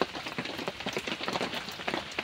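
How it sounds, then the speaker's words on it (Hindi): Steady rain patters down in a dense, even hiss with scattered drops, close by and continuous without talk. "वर्षा होची"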